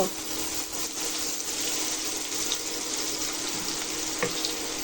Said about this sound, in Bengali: কালো জিরা শুকনো লঙ্কা ফোড়ন দিয়ে পেঁয়াজ ভাজব